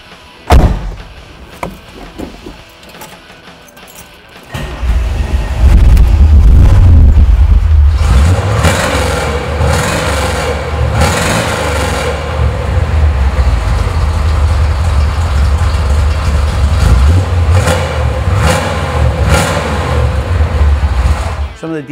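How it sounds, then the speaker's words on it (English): A 1969 Chevrolet Camaro Z-28 V8 cranks and fires, then settles into a loud, deep, rumbling idle with occasional revs, heard up close throughout. "How about I start it for you so you can hear what it sounds like?"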